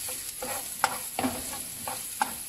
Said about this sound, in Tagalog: pag nagigisa ako, inuuna ko talaga si sibuyas, tsaka ko pa susunod si bawang